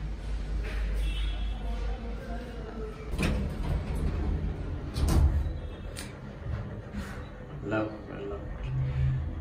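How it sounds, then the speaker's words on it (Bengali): Lift doors sliding in a Dhaka metro station during the busy morning office commute, with a couple of brief thuds and rattles over a steady low rumble of the lift and station hubbub. "লিফটে উঠে পড়লাম।"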